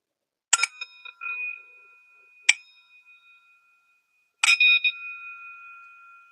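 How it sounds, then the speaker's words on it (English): A meditation bell, played through devices at the start of a guided session, is struck three times. Each clear metallic strike rings out and fades into silence before the next, with the last strike ringing longest. "Not sure how the bell will sound"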